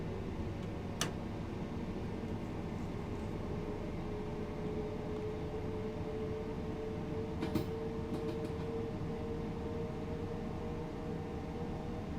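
A train accelerating on the East Coastway route from Brighton to Eastbourne in Train Sim World 2, a steady low rumble of traction and wheels with a rising motor tone and occasional clicks, continuous and moderately quiet.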